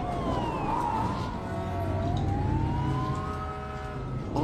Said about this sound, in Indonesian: Mobil-mobil polisi, damkar, dan ambulans berlalu lalang.